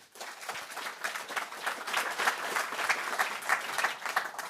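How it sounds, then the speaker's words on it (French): Audience applause at a conference on climate challenges, a dense steady patter of many hands clapping that swells slightly and holds throughout, fairly close and without talk. "Sous vos applaudissements, mesdames, messieurs."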